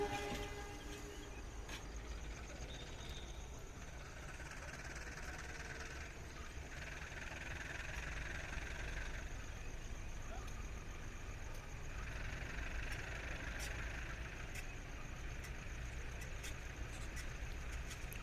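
A passenger train bound for Malang shunts at Purwokerto station, a faint, steady low rumble of idling locomotive and rolling stock heard from a distance with station ambience, no clear talk.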